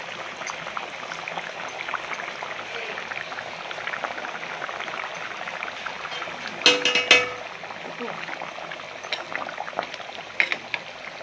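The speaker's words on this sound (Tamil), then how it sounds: "மீன் குழம்பு நல்லா கொதிச்சு எண்ணெய் பிரிஞ்சு வந்துருச்சு" Sankara fish curry with raw mango simmering in a pot, a steady soft bubbling and sizzling of oil and liquid, with a brief louder clatter midway and someone speaking Tamil over it.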